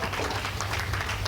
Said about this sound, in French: Même Cynthia l'applaudit.